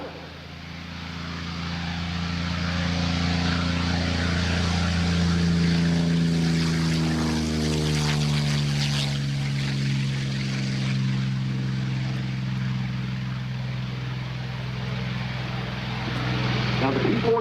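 A P-40N Warhawk fighter drones overhead at the 2024 National Warplane Museum airshow in Geneseo, its propeller engine swelling as it passes and sliding down in pitch, then holding a steady distant roar.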